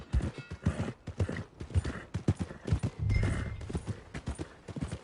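Horse hooves clip-clop in Red Dead Redemption 2, a loud, close, rhythmic series of hoof strikes at a walking pace, with a brief snort midway.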